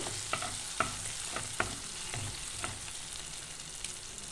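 Spice paste for a dhaba-style egg curry steady sizzles and fries in a pan, with a spoon stirring and scraping now and then, close and continuous without voices.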